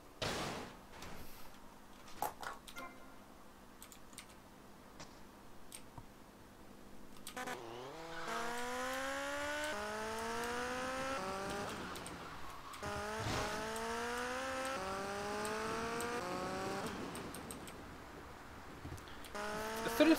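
A motorbike engine in GTA Vice City multiplayer revs up through a series of rising gear shifts, steady and fairly close, after a quieter opening with scattered clicks and knocks.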